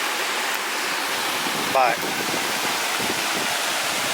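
Waterfall on a wilderness river, the Ingraham River, giving a steady, loud broadband rush that fills the whole clip, with a brief spoken word partway through.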